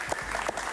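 Steady applause from a studio audience at a televised interview, a dense continuous patter of many hands clapping at moderate volume with no voices over it.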